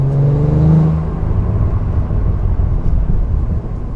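A Cadillac CT4-V Blackwing's engine gives a loud, deep rumbling roar that swells in the first second and then settles into a steady low growl, with no talking.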